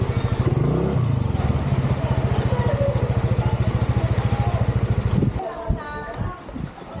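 A motorcycle engine chugs up close in a rhythmic, steady throb on a ride into a stormy typhoon, then drops out abruptly near the end, leaving clattering and voices.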